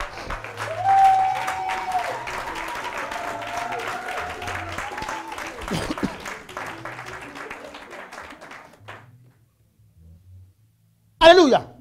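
A church congregation applauds and cheers, with voices calling out over steady clapping that fades out near the end, followed by a short, sharp burst of clapping.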